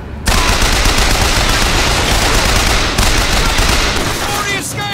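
Sustained, dense gunfire from the video game Bioshock Infinite, a loud continuous volley of rapid automatic shots that barely lets up for the whole stretch, with a short pause near the middle and a voice calling out briefly near the end.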